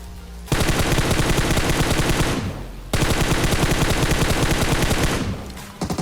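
Automatic rifle fire in the mobile battle royale game PUBG Mobile: two long, loud, sustained bursts of rapid shots, the first briefly trailing off before the second begins, with no talk.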